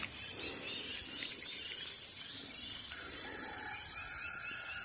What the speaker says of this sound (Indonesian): suara burung di sini banyak sekali